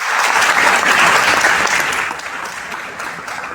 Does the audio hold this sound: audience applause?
yes